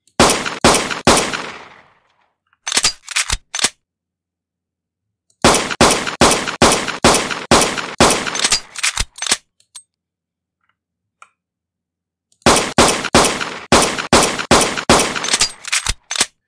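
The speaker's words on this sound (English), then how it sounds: "Now it's hard to hear the empty magazine sound because when we reach zero, it automatically starts reloading." Rapid automatic gunfire from a Unity first-person shooter plays in three tight bursts of sharp, loud shots, with short mechanical clicks of reloading in the pauses and near-silence between bursts.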